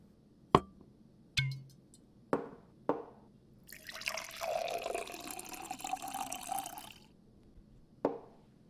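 Scotch poured from a bottle into a glass: a few sharp clinks and taps of glass, then a steady splashing pour lasting about three seconds, ending with one last clink, close and quiet with no talk.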